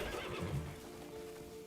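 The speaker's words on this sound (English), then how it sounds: "That's a cool looking horse. I like the mane on that horse." A horse neighs in the video game Crimson Desert, a whinny with hoof clip-clops over steady game ambience, no talk during it.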